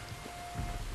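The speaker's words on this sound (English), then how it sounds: "You were right about the damn rain." Steady rain pours across an outdoor scene in Red Dead Redemption 2, a dense, even hiss with low rumbling swells, heard alone without any talk.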